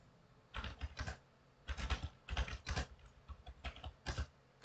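Clusters of quick keystrokes on a computer keyboard as keywords are entered word by word, close and distinct, separated by short quiet gaps.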